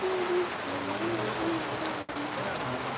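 Heavy rain falls steadily and densely, a loud, even hiss of drops hitting surfaces with no break apart from one brief dip.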